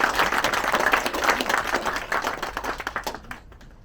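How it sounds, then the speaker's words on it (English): Audience applause welcoming a charity's chief executive onto the stage, dense sustained clapping from a crowd that holds steady for a few seconds and then tapers off near the end. "I would like you to put your hands together and welcome our Chief Exec"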